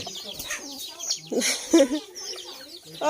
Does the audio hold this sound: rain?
no